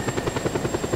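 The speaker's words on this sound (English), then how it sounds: "Ooh, another helicopter there." A helicopter in the video game Just Cause 2 flies over a big city, its rotor chopping in a steady fast rhythm with an engine whine, moderately loud and alone.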